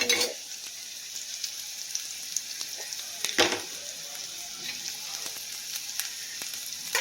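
Ridge gourd chutney ingredients fry in a pan with a steady, close sizzle, broken by occasional sharp crackles and a few stirring knocks; no voices.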